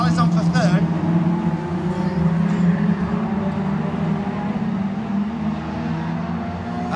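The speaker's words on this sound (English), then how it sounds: "Here comes the 45 car of Jordan Wainwright, followed by Ross Montgomery" Stock cars racing at Ringwood Raceway, a loud, continuous roar of several engines circling the oval, with a commentator talking over the din throughout.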